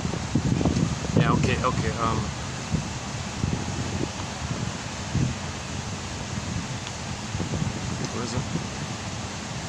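Wind blows outdoors in a steady, moderate rush with gusty rumbling against the microphone, strongest at the start, while a person briefly speaks over it.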